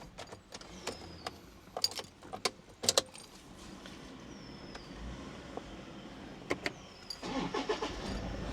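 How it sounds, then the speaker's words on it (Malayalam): A Toyota Fortuner 4x2 automatic being started, heard as a series of sharp clicks and knocks followed by a quiet engine idle, fairly close, with no talking. "വണ്ടി ഒന്ന് സ്റ്റാർട്ട് ചെയ്യാം"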